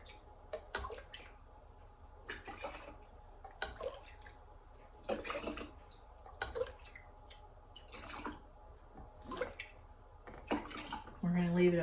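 Homemade unboiled blackberry juice poured into canning jars, with intermittent clinks of glass and pouring liquid, and someone talking quietly between the pours.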